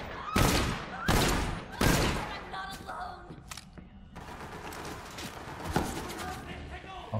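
Gunfire from the video game Borderlands 3: several loud, sharp shots ring out in quick succession, followed by more scattered blasts and impacts. Someone talks over the action.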